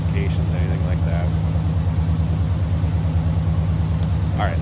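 A 1988 GMC Sierra K1500 SLE 4x4 pickup with stock exhaust idles steadily, its engine producing a loud, even low throb with a rapid pulsing beat throughout, while someone talks briefly over it.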